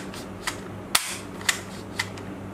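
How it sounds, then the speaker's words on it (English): A small two-colour plastic toy gun fires ball bullets, a handful of sharp snapping clicks spaced about half a second apart, close and fairly loud over a faint background hum. "Two color plastic toy guns"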